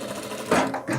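A sewing machine runs a seam on a rag doll's dress, its motor whirring steadily and then surging louder in a denser burst, close up with no talking.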